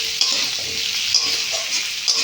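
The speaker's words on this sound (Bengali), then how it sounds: "সেই জন্য আলুটা আলাদা করে একটু ভালো করে ভেজে নেব" Diced potatoes fry on their own in a pan, giving a bright, even sizzle broken by a few sharp stirring scrapes, close-up with no voices.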